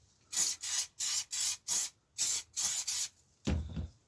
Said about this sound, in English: general spray all over.